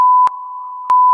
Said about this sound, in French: Du coup il y aura un énorme bip.